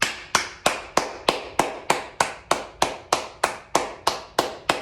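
Steady single pair of hands clapping for the Minnesota Vikings, about fourteen sharp evenly spaced claps, close and loud with no talk over them.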